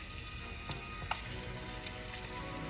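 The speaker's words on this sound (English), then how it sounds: "I'm just gonna put skin side down" Chicken pieces placed skin side down in a hot pan of olive oil give a steady, loud, close sizzle that fills the whole stretch, with a few faint clicks on top.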